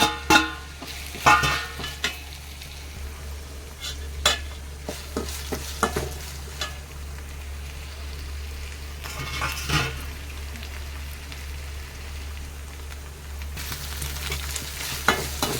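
Ground masala paste, crushed onion and curry leaves frying in oil for a fish curry, a continuous close sizzle broken by repeated scraping and clinking stirs of a metal spoon against the pan.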